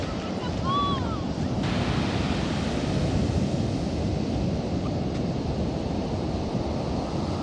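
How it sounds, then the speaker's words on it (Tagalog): Strong ocean surf crashes and roars continuously at a beach in San Juan, La Union, with heavy wind buffeting the microphone throughout. "sobrang lakas ng alon"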